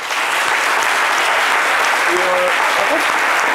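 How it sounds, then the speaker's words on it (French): Sustained audience applause in a studio setting, dense and steady throughout with a brief voice or tone cutting through near the middle. "Les applaudissements ont tout leur sens"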